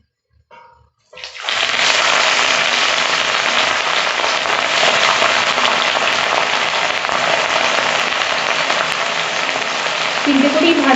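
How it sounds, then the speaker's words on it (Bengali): Pieces of rohu fish dropped into hot oil, starting with a brief clatter and then bursting into a loud, dense, continuous sizzle that holds steady close by. "তেলটা গরম হয়ে গেছে। এবার আমি একে একে মাছগুলো ছাড়বো।"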